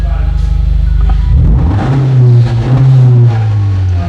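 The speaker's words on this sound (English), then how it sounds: "Rev it to 4." 2021 Honda Accord engine revved up to about 4000 rpm: a close, loud idle swells into a rising rev that holds high, with a person speaking briefly at the start.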